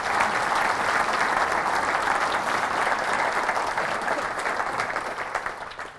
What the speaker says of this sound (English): I think just a round of applause for our panel there, if you don't mind.